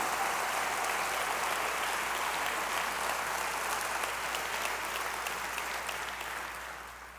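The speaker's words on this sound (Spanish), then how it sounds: "Si es un aplauso para él, hazlo con fuerza y con alegría" A church congregation claps for its pastor's message, a steady wash of crowd applause heard from a distance with a low hum underneath, tapering slightly near the end.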